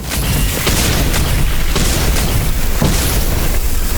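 Enemies exploding in a dark RPG shooter video game boom and pop one after another, loud, dense and near, forming a continuous rumbling barrage without speech.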